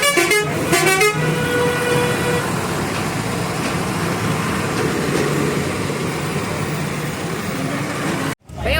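A truck drives along a busy road among other traffic, with a steady roar of engines and tyres, a short burst of repeated horn toots at the start, and continuous road noise that cuts out briefly near the end.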